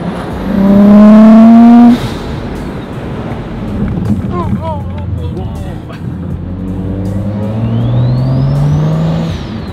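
Single-turbo N55 BMW 335i revs sharply and loudly in a short burst, drops back to a rumbling idle, then climbs again in a rising pitch, with people talking over it and wind buffeting the microphone.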